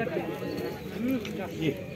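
A pigeon coos softly with low, rolling calls beneath faint background noise at a market.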